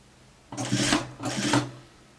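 A sewing machine stitches fabric for a raglan-sleeve coat in two short motor bursts of about half a second each, close and fairly loud, separated by a brief pause with no talking.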